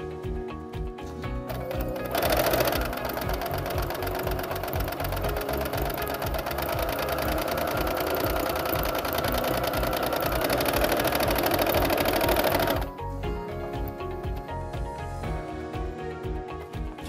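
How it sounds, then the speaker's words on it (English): A home sewing machine runs steadily for about ten seconds, stitching a straight seam, with its rapid mechanical whir loud and close, framed by quieter moments before and after. "you will sew a straight line."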